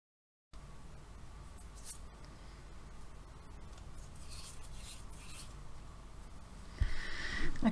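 Paper being cut with scissors for a paper chain, heard as continuous close rustling and snipping scrapes, with a louder handling noise toward the end and no talk.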